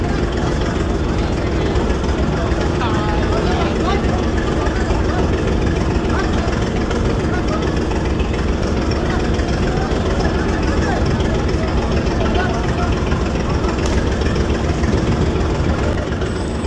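The engine of the Rajdoot Prime passenger launch on the Dhaka to Banaripara river route drones loud and unbroken throughout, a dense rumbling roar, with a faint murmur of voices beneath it.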